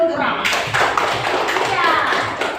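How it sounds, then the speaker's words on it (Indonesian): Students in a classroom applaud, a burst of fairly loud, rapid clapping that lasts a couple of seconds, with children's voices mixed in. "tepuk tangan dulu untuk Rama"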